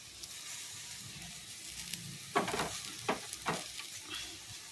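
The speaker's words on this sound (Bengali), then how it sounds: "ধনেপাতাটাকে ভালো করে মিশিয়ে নিতে হবে" Fried potato filling sizzling in a pan as chopped coriander is stirred in, a constant sizzle broken by several sharp scraping stirs near the middle and end.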